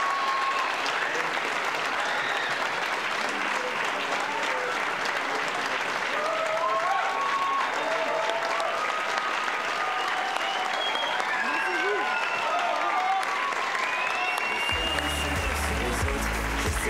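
An audience at a local final of a secondary school talent show applauds performers, artists, hosts and technicians with dense, sustained clapping filling the hall, cheers and whoops rising over it and speech faintly underneath.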